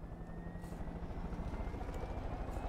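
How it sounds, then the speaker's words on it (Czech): Aircraft flying overhead in the video game Far Cry 5, a continuous throbbing rotor-like engine drone at moderate distance, steady and fairly faint with a slight pulsing rhythm. "Kde je to letadlo zasrané?"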